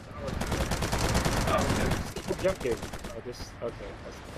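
Rapid video game gunfire during a team showmatch, bursts of automatic shots rattling steadily for a couple of seconds before thinning into scattered pops, with voices talking over the action.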